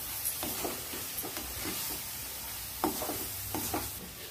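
Milk stirred into a pedha mixture in a hot pan, soft sizzling under a series of scraping, clacking spoon strokes at an uneven rhythm, close by with no talk.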